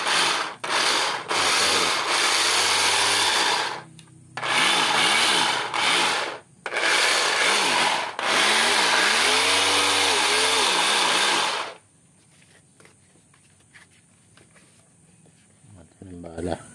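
An XUI orbital sander with a faulty armature rubbing inside its motor runs in loud bursts with a rough, grinding whir, cutting in and out several times before stopping and leaving a quiet, faintly clicking tail.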